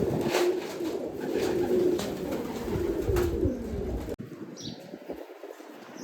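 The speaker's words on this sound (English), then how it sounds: "Whoa, look at all the pigeons." Pigeons cooing in soft, repeated low calls at an animal rescue sanctuary, with a busy outdoor background and occasional chirps.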